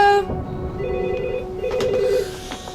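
An unanswered hotel telephone rings out in bursts of electronic trilling tones, fairly close and clear over a quiet room background.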